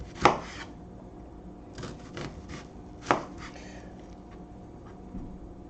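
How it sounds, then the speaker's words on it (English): A knife dicing an onion on a cutting board: a few sharp chops spaced apart, one strong near the start and another around the middle, with faint scraping and rubbing between them. "we're dicing this onion"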